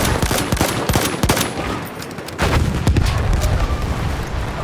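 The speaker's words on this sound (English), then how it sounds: "There's an enemy machine gun!" Loud, dense gunfire and booming blasts on a battlefield, rapid bursts layered with heavier thuds that carry through the whole stretch, with no voices over them.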